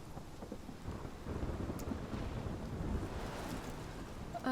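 Stormy weather from the video game Life is Strange, a steady broadband roar of wind and rumbling that swells after the first second and holds at a constant level with no talk.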